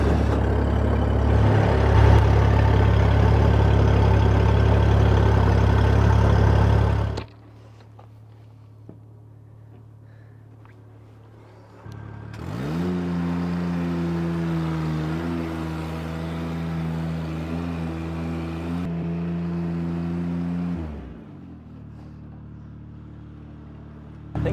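A boat engine is started with the choke on while out fishing: a loud rumbling run cuts out, then after a short quiet pause the engine fires and settles into a steady idling hum before stopping.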